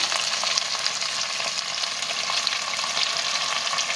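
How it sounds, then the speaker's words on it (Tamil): Onions fry softly in oil for Madurai-style mutton uppukari, making a constant bright sizzle close by. Light stirring taps run throughout, with no voices. "எண்ணெயில் வெங்காயம் நல்லா வதங்கி சாஃப்ட் ஆகிடுச்சு"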